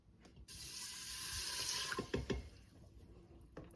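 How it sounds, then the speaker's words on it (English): Filtered water poured from a container into a pot of dried elderberries, a steady close splashing stream running for about three seconds with a few brief clinks partway through. "We are going to put in 2 cups of filtered water."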